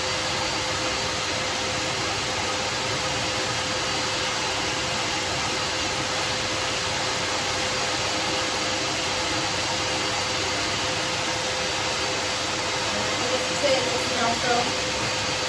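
A dog grooming dryer blows a steady, loud broadband rush of air throughout while the coat is brushed and lifted, with faint talk underneath.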